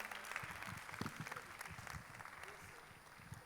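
Audience applause at the close of a love and relationship masterclass session, a steady diffuse patter of many hands with low voices murmuring underneath.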